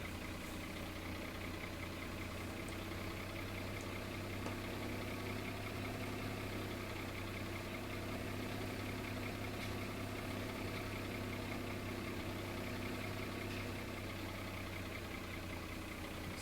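A tractor engine idles in the Farming Simulator 17 video game, a steady low mechanical hum with an even rumble that holds unchanged throughout. No one speaks.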